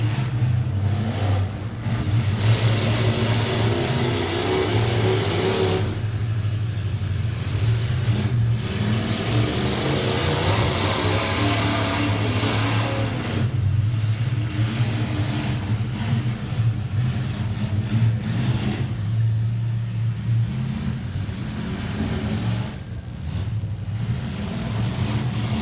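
Demolition derby cars at a derby track, engines revving hard in surging, repeated waves of mid-pitched roar that rise and fall over a steady rumble, loud and continuous, with no talk.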